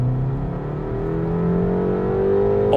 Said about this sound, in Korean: 그래서 급가속 한번 해볼게요. 스포츠 모드에서.